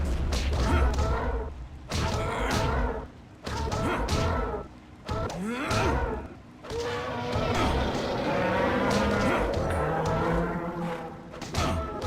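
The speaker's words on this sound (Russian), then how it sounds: "Попробуем завалить сначала корову." A cow in the video game Jade Empire lets out several loud, drawn-out moos, separated by short gaps, with thumping impacts mixed in and a long low bellow near the end.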